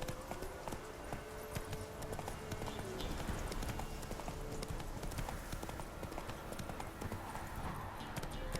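Roach, a horse in The Witcher 3, gallops steadily with dense, rapid hoof clip-clops over continuous ambient game noise, close and moderately loud throughout.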